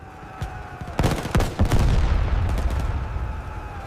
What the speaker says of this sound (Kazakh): Атыс тоқтамайды.